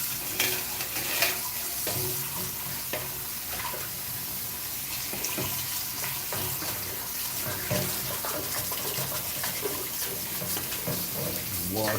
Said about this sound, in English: Wash these dishes, spill all this stuff off of it first.